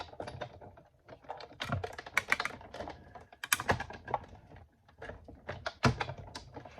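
Paper and a cutting die layered with wax paper are cranked through a manual die cutting machine, producing close, irregular clicks, thumps and rattling taps in quick bursts separated by short pauses.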